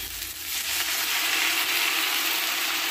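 Cut potatoes with salt and turmeric fry in a hot pan, giving off a dense, continuous sizzle with faint scraping as they are stirred, close and loud with no voices.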